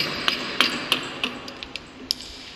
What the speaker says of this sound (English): Now he utilizes the plain edge chisel for removing the unwanted material